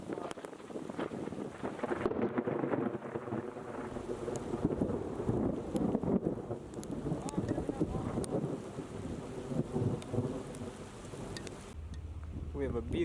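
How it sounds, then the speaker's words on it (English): Thunder from a nearby lightning strike during a supercell storm on the plains rolls and rumbles at length, over rain and gusting wind buffeting the microphone. "Oh wow, that lightning bolt was right there."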